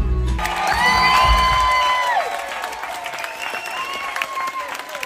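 Crowd clapping and cheering with whoops after amateur karaoke singing aboard the Freedom of the Seas cruise ship, loud and close, with musical tones fading beneath and voices shouting over the applause.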